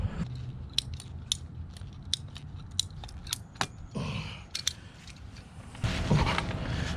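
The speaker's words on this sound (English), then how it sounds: "I'm going to go ahead and make my cut here, at least for the sprinkler head." Sprinkler line pipe being cut for a sprinkler head while setting up a tall raised garden bed, a series of sharp snipping clicks from a cutting tool at a steady pace, then rustling handling noise, with no voices.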